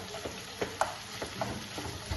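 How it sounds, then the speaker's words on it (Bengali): Boiled fish being mashed with a metal spatula in a pan, quiet scraping strokes and soft taps at an irregular rhythm over a faint background hiss. "মাছগুলোকে ভালো করে খুন্তির সাহায্যে মাছগুলোকে ভালো করে গুঁড়ো করে নেব"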